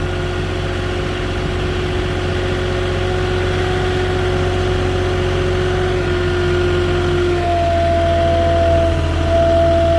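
Moffett truck-mounted forklift engine runs steadily while travelling loaded with two pallets, a close droning rumble with a sustained whine that shifts pitch upward near the end.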